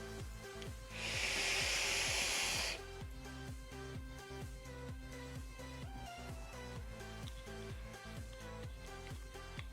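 Atomizer being vaped during a head-to-head test, giving a close, steady hiss lasting about two seconds over quiet background music, with no talk.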